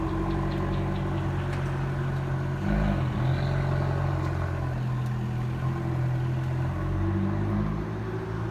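An Abarth car fitted with an Akrapovic exhaust idles close by with a deep, steady burble, and a brief swell in revs partway through, with faint background clatter.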